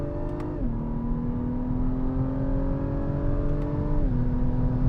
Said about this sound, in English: That's full throttle. You feel the turbo spool.